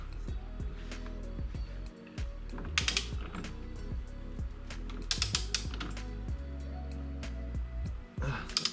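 A torque wrench ratchets in short clicking bursts while a Mazda MX-5 steering wheel is tightened to 40-47 Nm, with sharp clicks clustered in a few groups over a steady low mechanical hum.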